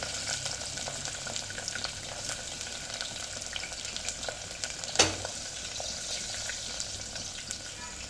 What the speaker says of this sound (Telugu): మనము చాప్ చేసుకున్న ఆనియన్స్ అండ్ చిల్లీ అయితే వేసుకోవాలి